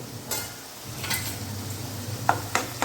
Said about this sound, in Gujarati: તેલ છૂટું પડે ત્યાં સુધી સાતળી લેવાનું છે